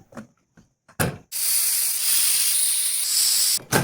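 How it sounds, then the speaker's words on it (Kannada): A pressure cooker holding mutton chops lets out a loud, sustained hissing whistle lasting over two seconds, preceded by a few short sputtering bursts of escaping steam. "4 ವಿಷಲ್ ಕೂಗಿಸಿ."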